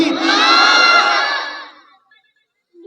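Crowd at a Bengali religious gathering shouting the takbir response together in one loud, sustained unison cry that fades away.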